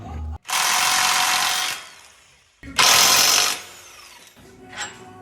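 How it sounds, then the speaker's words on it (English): Power tool spinning off 22mm bolts on a 2025 Toyota Land Cruiser's lower control arm during a suspension lift install, two loud close whirring bursts with a brief pause between and a faint clunk after. "Next step is to remove these two 22mm bolts on the bottom, holding the lower control arm to the knuckle."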